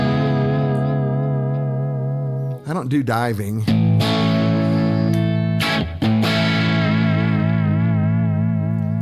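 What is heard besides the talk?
electric guitar vibrato bar warbling tape effect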